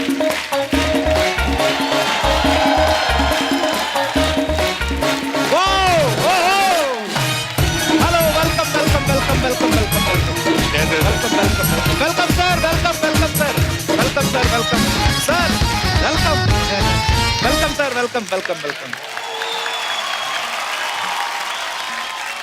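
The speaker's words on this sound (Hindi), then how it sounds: "जोरदार तालियां।" Loud studio audience applause on an Indian comedy talk show as a film's cast is welcomed, dense clapping continuing for about eighteen seconds over music before fading, with a brief voice.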